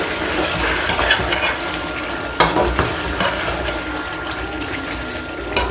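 Green chillies frying in a pot of desi chicken Mumbai-style biryani, a steady close sizzle with occasional stirring scrapes and clinks, no voices.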